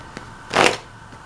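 A worn, older Marseille tarot deck is shuffled by hand in one quick riffling burst, close and clear against a quiet room, with no talking.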